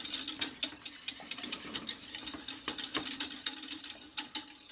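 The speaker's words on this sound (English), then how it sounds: "And then we're going to whisk this like heck." A whisk beating milk, egg yolks and vanilla in a pot, quick steady metallic strokes scraping and clicking, close and continuous with no voices.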